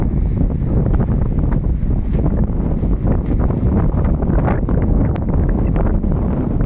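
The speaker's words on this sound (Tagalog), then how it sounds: "ang lakas po ng hangin dito" A strong wind roars steadily against the microphone outdoors, a loud, constant low buffeting with no pauses.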